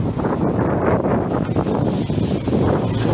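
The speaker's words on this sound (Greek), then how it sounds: "Ο αέρας." Strong wind roars steadily across an outdoor hillside in the Rhodope region, buffeting the microphone with a continuous, rumbling gusty rush and no pauses.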